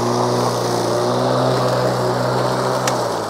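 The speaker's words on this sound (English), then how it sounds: "This tall stuff here is definitely too much for the mower, but it is doing it." A Litheli U20 battery-powered lawn mower cuts through tall grass, its motor giving a steady, close droning hum that holds level the whole time with no one speaking.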